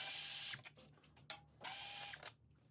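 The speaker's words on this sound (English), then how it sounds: "Start by removing both T25 bolts." A ratchet with a T25 bit backs out bolts on a 2020 BMW S1000RR motorcycle, a few quiet bursts of close mechanical clicking separated by short pauses.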